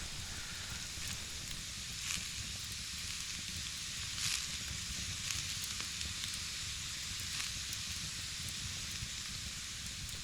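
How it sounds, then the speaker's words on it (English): A pot of food boiling on a camp stove outdoors after rain, giving a steady close bubbling hiss with faint crackles and occasional brief louder pops, continuous and even throughout with no voices. "It's been boiling for about 15 minutes."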